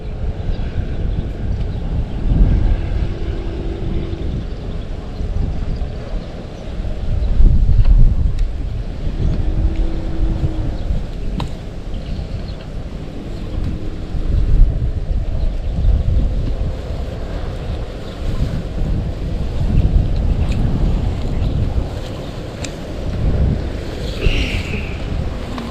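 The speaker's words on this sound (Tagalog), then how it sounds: "humangin na." Wind blowing outdoors during airgun fishing near water: loud, gusty rumbling buffets against the microphone that swell and fade over the whole stretch, with faint lapping water and occasional small knocks beneath.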